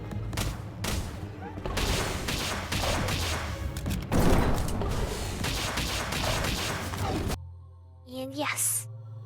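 Rapid, sustained gunfire from a Palworld firefight clatters loudly and densely for about seven seconds, then drops to a quieter stretch with a rising whistle-like tone.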